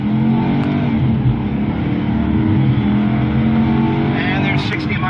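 A Chevy Caprice PPV sedan engine roars steadily under hard acceleration to 60 mph, loud and close, with a faint squeal near the end.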